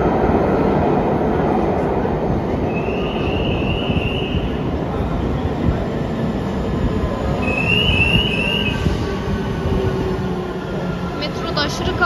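Steady loud rumble of a crowded metro train at rush hour on the way to Bursa, with continuous rolling wheel noise, a few faint high squeals, and murmuring passengers throughout.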